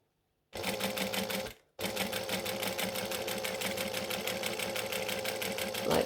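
A sewing machine stitches slowly along a marked line on a 3 3/4 stitch length, starting, pausing briefly, then running in a steady, close rhythmic whir.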